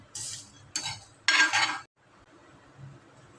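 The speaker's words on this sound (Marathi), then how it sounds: "नंतर यात धना पावडर टाकायची आहे। यालाही हलवून घ्यायचंय छान।" Coriander powder stirred in a pan with the gas switched off, three short bursts of a utensil scraping and clinking against the metal, then quiet with faint residual sizzle.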